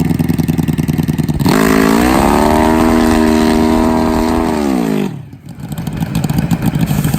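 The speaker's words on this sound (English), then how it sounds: "External starters coming out to turn over these high compression motors." Pro Mod Suzuki drag motorcycle with a high-compression nitrous engine, spun over by an external starter: a loud, steady mechanical whine holds for about four seconds and then cuts off sharply, with crowd and track noise around it.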